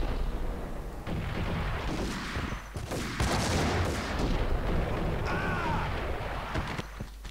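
Dense video game gunfire from Max Payne: rapid shots and booming blasts packed together in a continuous loud barrage lasting several seconds.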